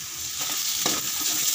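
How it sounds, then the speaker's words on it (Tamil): Poha upma with potato is stirred in a hot pan just after salt goes in, a brief close sizzle with a soft scrape of the spoon. "1 சிட்டிகை உப்பு போட்டு லைட்டாக கிண்டி விட்டுக்கோங்க"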